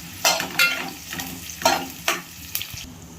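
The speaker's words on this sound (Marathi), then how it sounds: "हा कांदा चांगला लालसर होऊ द्यायचा।" Chopped onion stirred in a hot pan for a Marathi moong-bean lentil curry, with soft sizzling under several scraping spatula strokes at an uneven pace, close and moderately loud.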